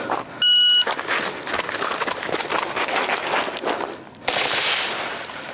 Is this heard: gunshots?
yes